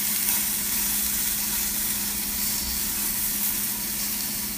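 Sweet potato flour hamburger sizzling in a pan, a steady close hiss of frying fat with a faint low hum underneath.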